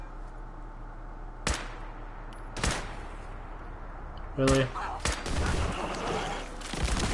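Gunfire in the game Fallout 4, a few sharp separate shots spaced seconds apart and then a denser burst of firing near the end, mixed with game noise and a brief spoken reaction.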